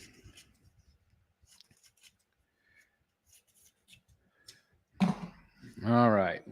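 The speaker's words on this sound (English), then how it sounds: "Cut another strip here." Scissors cut a strip during a live collecting hangout, with a brief close snipping burst near the end after quiet stretches of faint handling and light talk.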